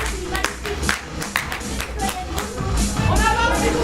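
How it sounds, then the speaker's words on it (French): Audience applauding a woman citizen at a women's assembly event, a dense run of clapping and crowd noise with scattered sharp claps, mixed with voices and some music underneath. "On va l'applaudir très fort, bravo."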